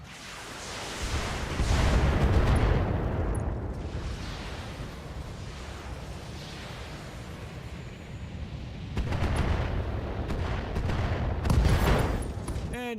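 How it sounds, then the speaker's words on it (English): An ammo explosion and sustained gunfire rumble through a video game battle, dense booming and crackling blasts that swell at the start and again near the end, with a voice talking over the din. "And an ammo explosion to eliminate"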